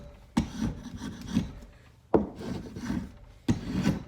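Rasping strokes as bark is scraped off a wooden log clamped in a vise, three sharp-onset passes each trailing into gritty rubbing, close and alone.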